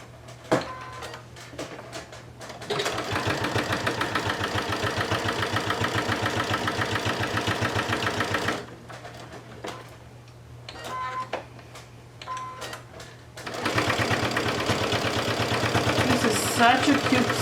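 Sewing machine running in two long bursts to top stitch the edge of a fabric gift card holder, a steady mechanical whir with a rapid needle rhythm, with quieter handling noises between runs.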